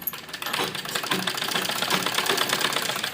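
A sewing machine runs steadily while stitching a net lehenga blouse, a fast even mechanical chatter of the needle, close and moderately quiet, with no talking.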